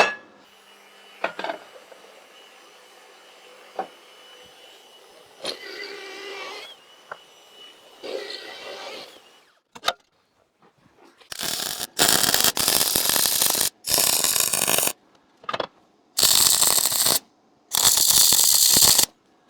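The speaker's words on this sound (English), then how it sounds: "just need to go and drill that hole out now" A power drill grinds through a metal part for a mini crane build in several loud, harsh bursts separated by brief pauses, following quieter clinks and handling noises.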